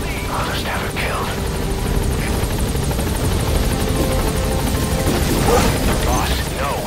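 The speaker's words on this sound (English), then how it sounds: "I'll send the extraction chopper." An extraction helicopter arrives in the video game Metal Gear Solid V, its steady rotor roar filling the whole stretch at close range, with faint game effects over it and no talk.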